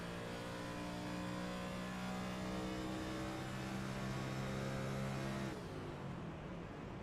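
A race car engine in iRacing at Homestead-Miami Speedway holds a loud, steady high drone, then the pitch drops sharply as the driver lifts off the throttle for turn one.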